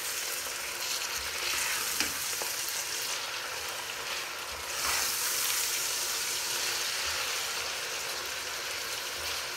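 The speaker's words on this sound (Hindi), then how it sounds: "अब हम थोड़ी देर के लिए अनियन को फ्राई करेंगे।" Onions fry in a pan with a continuous, even sizzle and crackle, and occasional faint stirring, with no one speaking.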